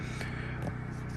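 A generator runs nearby, a steady low mechanical hum with a faint rhythmic throb and no pauses.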